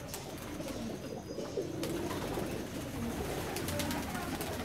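A Teddy pigeon coos softly at close range amid faint background noise, with low murmured calls repeating over a few seconds.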